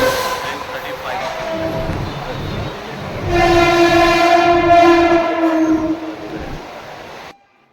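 A train at Vasai railway station rolls along with a rumbling hum, then a long, loud tonal horn blares for several seconds before cutting off abruptly, with crowd voices mixed in.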